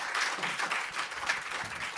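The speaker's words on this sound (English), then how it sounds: "can we give a huge round of applause to Lalita?" An audience at a London event applauds, a steady wash of many hands clapping at moderate volume for the whole stretch, with no voices over it.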